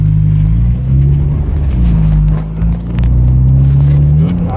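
Mazda Miata NC accelerating through the gears at low RPM, a loud close engine drone rising in pitch, dipping briefly at each shift, then climbing again.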